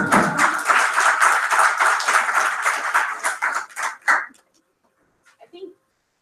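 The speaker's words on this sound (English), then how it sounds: "So, give a big round of applause for the panelists." Audience applause for panelists at a panel discussion, dense clapping lasting about four seconds before fading into near silence with a few faint scattered taps.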